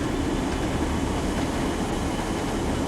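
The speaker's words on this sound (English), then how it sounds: "Full service with a big heavy freight train coming downhill." Class 40/1 locomotive hauling a heavy loaded oil freight train downhill in Train Sim World 3, a steady dense rumble of engine and rolling wagons that stays loud and even throughout.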